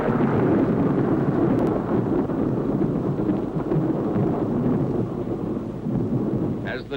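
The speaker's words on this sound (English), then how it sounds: "Seconds later, the blast wave reaches the trenches." The blast wave of an atomic bomb test reaches trenches holding observers as a loud, continuous roaring rumble, like heavy thunder, sustained for several seconds with no voices.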